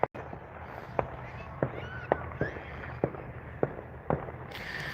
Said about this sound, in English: fireworks just going off like everywhere around. As you can hear.